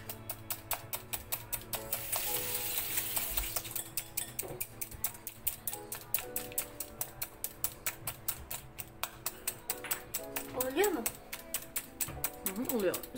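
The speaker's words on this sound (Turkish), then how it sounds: "Daha güçlü çırpman lazım" A whisk beats sugar-free, oil-free, flourless brownie batter in a bowl, making a fast, regular clatter of close ticks that runs the whole time while a woman and her son talk over it.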